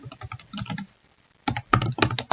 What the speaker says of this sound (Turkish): Sonra tekstimizi yazıyorum ben direkt.